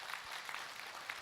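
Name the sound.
audience applause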